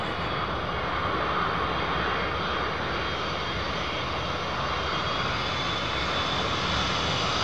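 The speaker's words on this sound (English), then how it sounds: "can hear the KLM jet behind me" A KLM jet airliner at Miami airport roars continuously, a broad, steady engine rumble and whine from behind the listener, loud and unbroken throughout with no voices.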